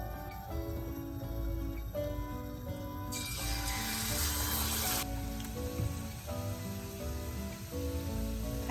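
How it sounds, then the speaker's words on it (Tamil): Green gram balls coated in batter for susiyam sizzle and crackle steadily as they deep-fry in hot oil, the sound swelling briefly midway, with music playing in the background. "இனிமே நான் பொரிச்சு எடுக்க போகிறேன்"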